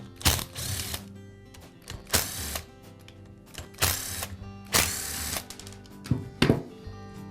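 Bursts of ratcheting clicks from a screwdriver turning screws out of a DeWALT hammer drill housing, several separate runs with short pauses between, close and fairly loud.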